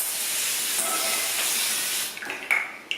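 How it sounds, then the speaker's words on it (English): A steady hissing mist of aerosol skincare spray runs for about two seconds, then cuts off, followed by a few small clicks. "I just hold my breath and I just spray all over"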